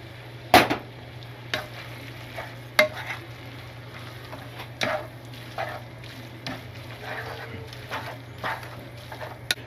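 Carbonara pasta with egg being stirred in a pan, giving scattered scraping and clacking knocks of utensil against pan over a steady low hum, with soft sizzling in the background.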